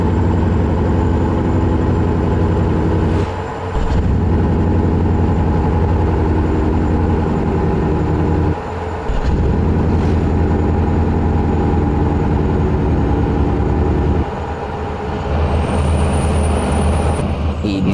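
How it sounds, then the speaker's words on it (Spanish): A heavy truck in American Truck Simulator, hauling 120 tonnes of Corona beer in Colombia: a loud, steady diesel engine drone with three brief dips as gears shift and a thin high whine near the end. "Ahí escuchando el motor"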